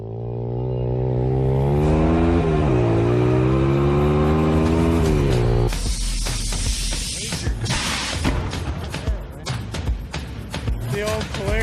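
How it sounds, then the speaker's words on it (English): A Polaris engine working a two-step rev limiter, a loud close engine drone rising and falling before breaking into rapid popping, crackling bursts. "The old Polaris two-step rev limiter going on here."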